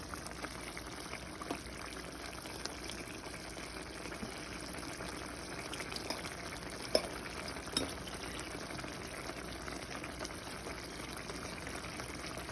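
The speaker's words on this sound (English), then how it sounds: "this is the brown stew cooking down" Jamaican brown stew chicken simmering down in a pot, a steady low bubbling and sizzling texture that runs quietly and evenly throughout with a couple of small clicks.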